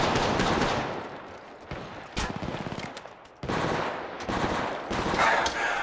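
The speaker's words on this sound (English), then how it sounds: "Opening fire." Gunfire in Apex Legends Mobile, loud rapid automatic bursts separated by short pauses, some single sharp shots, with close crackling impacts between volleys.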